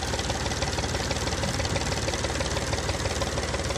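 An old Massey Ferguson tractor engine drives a tube well, chugging in a fast, even knocking rhythm that stays steady and close for the whole stretch, with no voices over it.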